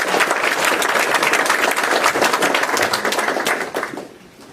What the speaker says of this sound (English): give Lori a welcome round of applause